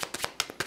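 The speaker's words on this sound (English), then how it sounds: "So I'll shuffle up closer to camera so that you can see how fair the shuffle is." Playing cards being shuffled by a magician, a quick run of crisp riffling bursts, about five short flutters in under a second, close and clear.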